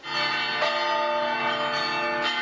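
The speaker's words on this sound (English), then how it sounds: "Bells ring out over Kyiv" Church bells peal steadily over Kyiv, their rich overlapping tones ringing continuously with fresh strikes every second or so, loud and reverberant.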